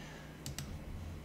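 Keys tapped on a computer keyboard while entering a custom formula in Mozaik cabinet design software: three sharp, quiet clicks, two close together and one a moment later, over faint room hum.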